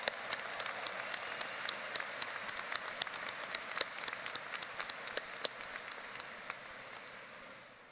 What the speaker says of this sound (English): let's hear a big hand of applause for our musicians